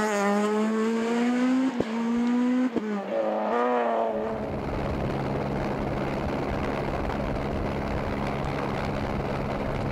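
A rally car at speed on a Rallye Sanremo stage, engine revving loudly with rising pitch and sharp gear shifts, then fading into a broad rushing roar as it passes close by.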